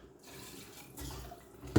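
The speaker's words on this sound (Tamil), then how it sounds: "இப்போ நம்ம இதுக்கு தேவையான அளவு தண்ணி விட்டுருவோம்" Water is poured from a vessel into a pot of sautéed mutton curry masala for a goat-head curry. The brief, faint splash swells toward the end, close by and quiet, with no speech.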